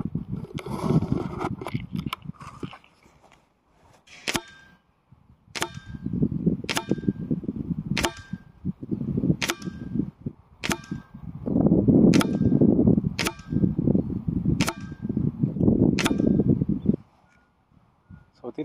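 Weihrauch HW97 air rifle firing Apollo Predator copper pellets outdoors, a series of about ten sharp, close cracks spaced a second or so apart, set against steady wind and handling noise.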